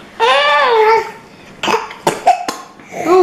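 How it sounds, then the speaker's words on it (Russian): A small child coughs indoors, a drawn-out hoarse cough followed by several sharp, separate bursts, close and loud, with fussy vocal sounds mixed in between. "Что так кашляешь?"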